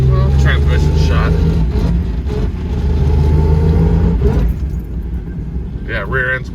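A 1965 Ford Mustang with an inline-six 200 and a T5 five-speed conversion drives along with a loud engine drone and a steady high whine from the transmission, while someone talks briefly.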